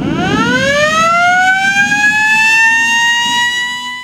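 A public warning siren at a swimming area winds up steadily, its rising wail climbing and holding at a piercing pitch, continuous and close.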